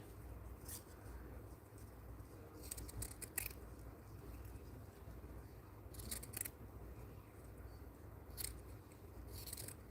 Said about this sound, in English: So I have to cut off the gathering here.